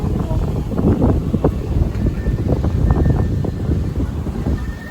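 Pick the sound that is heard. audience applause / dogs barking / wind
wind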